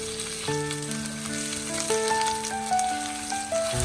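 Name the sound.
stir-frying water bamboo (jiaobai) in oil in a wok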